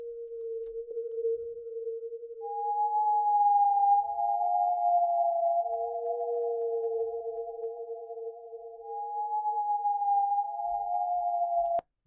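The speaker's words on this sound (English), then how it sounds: "the resonance is kind of making this sort of sine wave sort of whistle." A self-resonating synth filter whistles like a pure sine tone, one steady pitch joined by gliding upper tones that waver and overlap, sustained and alone until an abrupt cut at the end.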